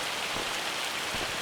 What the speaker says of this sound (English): Oh, the rain is really setting in though.